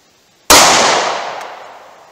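A single loud, sharp gunshot from a 9mm or .357 Magnum bullet striking 2x4 wood boards outdoors, a sudden crack followed by a long fading report over two seconds.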